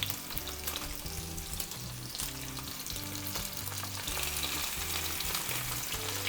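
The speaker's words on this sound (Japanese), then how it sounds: "常にこの肉が熱い状態で焼き目をつけていきます。" A steak sizzles steadily in a frying pan over high heat, a dense, continuous frying hiss with crackling spatter throughout, close and fairly loud with no talking.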